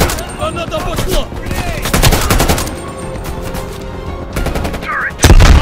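Rapid turret fire in the Call of Duty: Black Ops Cold War campaign, loud and close, comes in dense bursts with sharp cracks throughout, and a heavy boom near the end.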